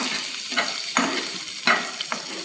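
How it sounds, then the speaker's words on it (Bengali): Chopped onions fry on high flame in a pan for restaurant-style egg chicken fried rice, a loud steady sizzle broken by four sharp spatula scrapes. "এবারে এর মধ্যে আমি দিয়ে দিচ্ছি কেটে রাখা পেঁয়াজ। এটাকেও আমি কিন্তু হাই ফ্লেমে আরও 1 মিনিট ভাজবো"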